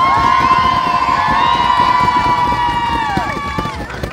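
A loud crowd at a sled dog race start at Les Sept Laux cheers and shouts steadily for a musher's team, sustained voices blending into one continuous roar.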